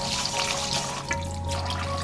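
Filtered water poured into a pot of three cups of washed rice for an electric rice cooker, a soft, continuous splashing trickle lasting about two seconds, close by and fairly quiet.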